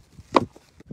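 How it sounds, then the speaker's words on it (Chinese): A knife chops scallions, ginger and garlic on a board, giving a few separate, crisp, near strikes with short gaps between them, one hit louder than the rest. "把葱姜蒜切碎"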